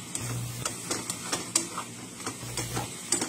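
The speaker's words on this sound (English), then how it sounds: "So let's go ahead and stir this and get this all yummy and delicious and cooked." Rice being stirred in a pan with butter and garlic aioli, a spoon scraping and tapping against the pan in irregular strokes over a soft sizzle, close and clear.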